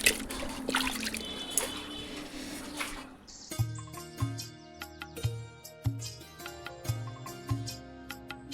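A cloth being washed by hand in a basin of dirty water: swishing and sloshing at first, then a series of separate splashes and drips, close and fairly quiet, with no talking.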